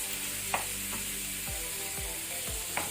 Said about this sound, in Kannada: ಇದನ್ನೀಗ ನಾವು ಮೀಡಿಯಂ ಫ್ಲೇಮಲ್ಲಿ ಫ್ರೈ ಮಾಡ್ಕೊಳ್ಳೋಣ.